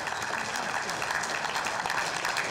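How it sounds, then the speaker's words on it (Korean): An audience gives brief, dense applause after a worship song sung by inmates, a continuous wash of clapping from many hands. "사람들이 힘찬 박수를 보냅니다"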